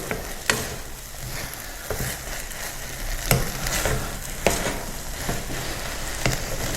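Eggplant and onion stir-frying in a frying pan with a little added water, a steady close sizzle with sharp scraping clacks of a utensil against the pan at irregular intervals.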